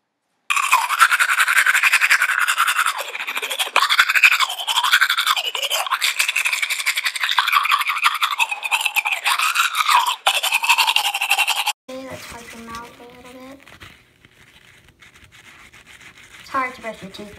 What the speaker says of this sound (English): Hard to brush your teeth when you're laying down, right?